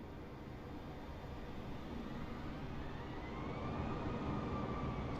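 Airplane landing in a video game, a steady broadband roar of engine and rushing air that swells slightly toward the end, continuous and fairly loud throughout with no talking.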